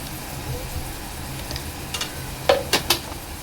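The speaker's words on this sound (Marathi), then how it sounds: "2 ते 3 मिनिटं चांगलं तेलावर शिजवून घ्यायचं आहे" Prawns cooking in oil in a pan for a Marathi-style prawn curry, a soft continuous sizzle with a few sharp ticks and clinks of a utensil near the end.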